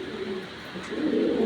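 A male grizzle racing pigeon coos up close, a low, throaty rolling call in two swelling phrases with a brief pause between them.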